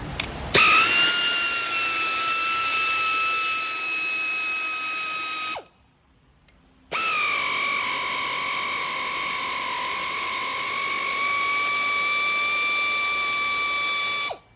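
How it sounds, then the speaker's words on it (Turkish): A power tool whines loudly and steadily while removing a rear drive compressor. The high-pitched run stops briefly for about a second, then starts up again and carries on unbroken to the end. "arkadaki tahrik kompresörünü söküyoruz şimdi"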